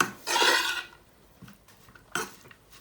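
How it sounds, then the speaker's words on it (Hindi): A utensil stirs crushed cheese into cooled crepe batter in a bowl, producing a close scraping, clinking burst, then quieter taps and a second short scrape. "और इसको अच्छे से मिक्स कर लेंगे।"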